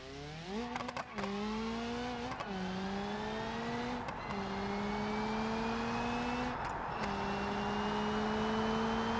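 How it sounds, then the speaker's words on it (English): Simulated car in the driving game BeamNG.drive accelerating through repeated gear shifts, its loud, close exhaust note rising steadily in each gear with brief crackles and pops between shifts. "Giving you guys a little bit of exhaust footage there"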